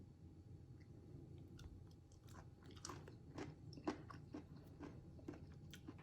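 A crunchy pickled tuber from a packet of spicy Chongqing instant noodles is chewed in a quiet room, giving a run of soft, irregular crisp bites and crunches, close but faint.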